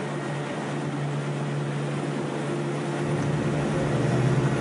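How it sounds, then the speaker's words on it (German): A Pelikan 1 rescue helicopter flies a patient to hospital in Bolzano, a steady, moderately loud engine and rotor drone with a constant low hum that swells slightly toward the end, with no talking. "Mit dem Hubschrauber wird er ins Krankenhaus nach Bozen gebracht."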